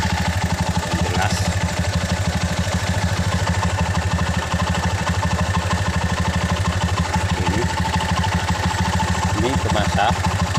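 A Honda Mega Pro motorcycle engine idles steadily and close up for the whole stretch, a constant rhythmic putter with some mechanical clatter, during an ignition check on a bike with a spark fault.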